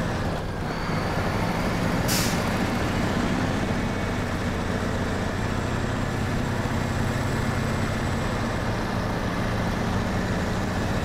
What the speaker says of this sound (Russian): врубать движок у флитстара